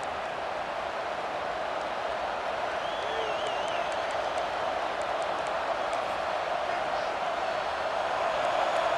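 Hockey arena crowd at a game against Clemson, a steady, broad roar of cheering voices filling the rink with occasional whistles, under a commentator's talk.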